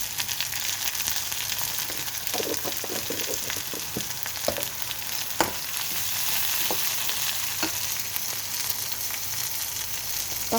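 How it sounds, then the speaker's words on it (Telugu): Bitter gourd pieces fry with turmeric in a pan, giving a steady, close sizzle throughout, with scattered crackles and a few scraping stirs. "ఇంకా మంచిగా ఫ్రై చేసుకోవాలన్నట్టు"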